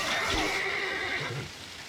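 Horses whinny in the medieval strategy game Stronghold Crusader DE, a bright, drawn-out neigh sounding close and clear over faint hissing game ambience, with no talking.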